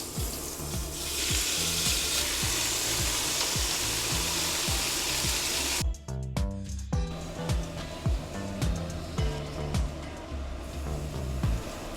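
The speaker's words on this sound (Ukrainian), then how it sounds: "Додаємо олію, обсмажуємо спочатку нашу порізану яловичину." Steady crackling sizzle of diced beef frying in hot oil for lagman, loud and close, with a brief break and some clattering before the sizzling resumes.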